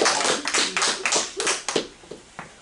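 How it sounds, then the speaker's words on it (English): Applause from a comedy club audience at a Thanksgiving Day group comedy show, close and lively, built from dense individual claps that thin out into scattered last claps toward the end. "let's give all the comics you just heard a big round of applause"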